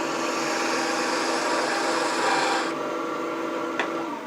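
A woodturning gouge cuts along a wooden heirloom rolling pin spinning on a lathe, giving a steady close rasping scrape that runs continuously before easing off, with a brief tick near the end.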